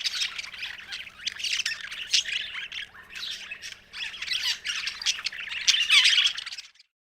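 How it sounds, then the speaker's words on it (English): A budgie keeps up a dense, close stream of scratchy squawks and chirps for several seconds, then stops abruptly, with no voices. "budgie"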